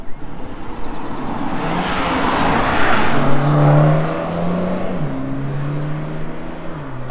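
Mini Clubman John Cooper Works with a 306 hp engine roars past, the engine rising as it accelerates and climbing through gear changes, loud and near, then fading slightly.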